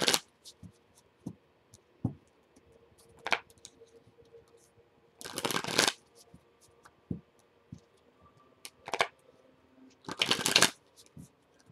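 Tarot cards are shuffled in several quick riffling bursts, close and crisp, separated by light taps and handling noises with faint speech between.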